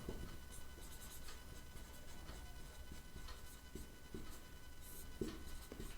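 A pen writes an answer by hand on paper in a quiet room, making faint scratchy strokes and soft taps over a low background hum, with no talking.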